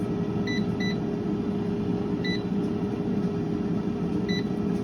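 An air fryer beeps as extra cooking minutes are set: four short, bright electronic beeps, a quick pair and then two spaced single tones, over a steady fan-like hum.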